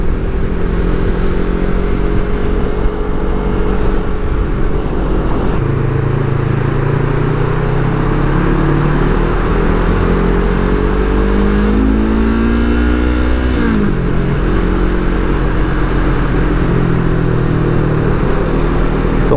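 Yamaha R3 motorcycle fitted with an Akrapovic slip-on exhaust, ridden on a sunny coastal road, a loud steady engine note that climbs through several rising pulls, drops at shifts and eases off, heard close with wind rush.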